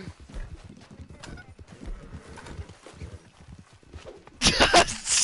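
A horse gallops in a video game with a rhythmic clip-clop of hooves, fairly close, before a sudden loud burst of noise near the end.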